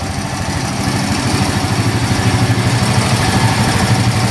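A cheap plowing ATV with low mileage runs at idle just after starting, its engine putting out a steady, close, loud chugging rumble with a regular pulse and no voices over it.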